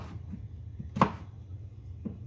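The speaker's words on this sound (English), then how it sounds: "let me cut up these last two" A knife cuts through zucchini on a board in a kitchen, one distinct close chop and a softer second one a second later, over quiet room noise.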